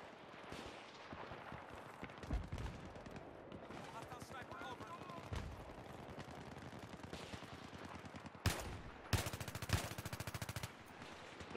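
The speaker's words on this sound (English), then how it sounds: "Shooting randomly." Automatic weapons fire rattles in Battlefield 3 gameplay: dense rapid bursts of gunshots throughout, with a sharp, intense volley near the end, while a player talks over the action.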